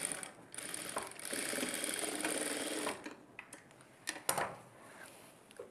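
A sewing machine stitches blouse fabric in one fast, whirring run lasting a few seconds, then stops, leaving soft scattered clicks and handling noises.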